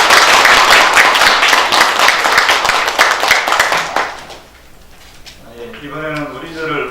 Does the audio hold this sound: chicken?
no